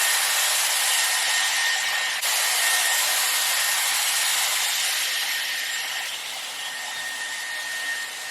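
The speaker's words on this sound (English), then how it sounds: "I'm blow drying away from my face to give me some volume" Dyson Airwrap styler blow drying hair away from the face, a steady loud whooshing airflow with a slight dip partway through and a gradual drop in intensity toward the end, heard alone without talk.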